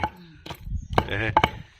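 A few sharp knife chops strike a board in quick succession as onions are chopped, close and crisp, with a brief rustling scrape between them.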